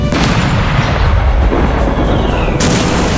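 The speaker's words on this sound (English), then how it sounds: "Now, Sarah, use the cannons." Heavy booming spaceship cannon blasts in the video game Space Engineers, a loud, rumbling barrage, thick low-end roar throughout with a sharper burst near the end.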